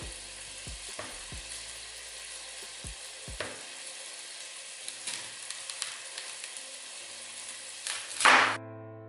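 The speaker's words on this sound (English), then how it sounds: "I'm gonna just throw a little bit of oil in here. And then I'm gonna go ahead and put the sausage in here." Smoked turkey sausage sizzles in a little oil in a pan over low-medium heat, making a steady close crackle with a few scattered knocks and a sharper burst near the end.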